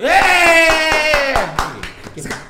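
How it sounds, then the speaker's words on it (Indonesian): Audience members at an Indonesian talk show clap in a steady, evenly spaced rhythm while a held, tuneful voice rings over the beat, then the clapping turns ragged and fades. "Tepuk tangan dong"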